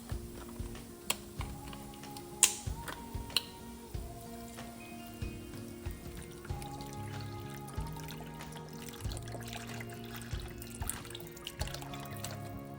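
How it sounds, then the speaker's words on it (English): Beef broth poured into a pot for a one-pot hamburger dish, a continuous low liquid gurgle and splash with scattered drips and light clinks, steady and fairly close. "now I'm going to add half of this beef broth"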